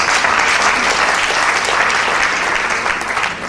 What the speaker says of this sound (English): I'd like us to applaud her one more time, please.